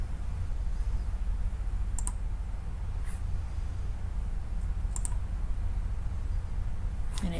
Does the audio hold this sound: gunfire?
no